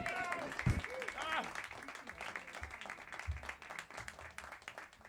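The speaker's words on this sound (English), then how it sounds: "If you give him a round of applause, get him on the stage" Comedy club audience in a showroom clapping to welcome a comedian to the stage, moderate applause mixed with a voice and some crowd noise early on.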